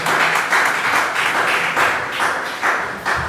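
A church congregation applauds together, a loud sustained burst of many hands clapping in rhythmic waves, filling the room with no voices standing out.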